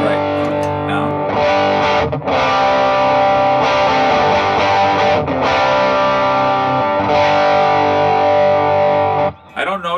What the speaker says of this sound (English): if I just turn on the germanium side and then add in the JFET, you're going to hear the tone get a lot more body to it